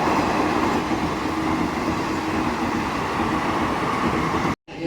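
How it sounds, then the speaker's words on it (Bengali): A train at Bandel Junction railway station, a loud steady rumble and rolling roar of carriages close by that cuts off abruptly at the end. "এখান থেকে ট্রেন ধরবো, আবার চেঞ্জ করতে হবে।"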